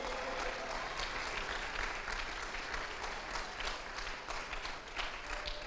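A church congregation applauds together in a steady, dense wash of clapping that holds evenly throughout, with no voices rising above it.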